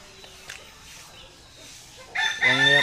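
A backyard rooster crows loud and close near the end, its strained call rising after a stretch of quiet yard ambience with faint scattered noises.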